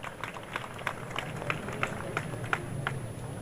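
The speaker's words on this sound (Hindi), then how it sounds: "तालियाँ।" Scattered audience clapping at an Urdu poetry mushaira in Karachi, individual claps standing out in an uneven rhythm over a soft murmuring hall.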